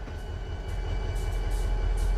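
A train pushing cattle cars back in the Trainz 12 railway simulator, a steady low rumble of rolling wagons with faint rhythmic clatter, building slightly louder over the short stretch with no talking.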